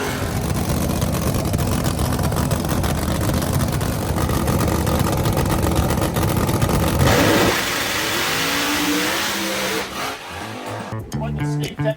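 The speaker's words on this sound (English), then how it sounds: "Kenny Lane bringing the RPMs up, setting the bell springs on that car." A drag racing car on the line at a street nationals event, its engine held at high RPM with a loud raw roar, then the note changes and fades into choppier bursts and lighter revs near the end.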